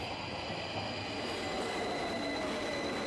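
An underground train rumbles steadily with a thin, rising metallic squeal of wheels braking as it screeches to a stop, continuous throughout with no voices.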